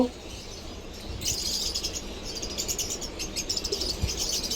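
Creamino lovebirds chirp in an aviary, a busy cluster of high, rapid tweets that starts after a quiet moment and keeps going at moderate volume.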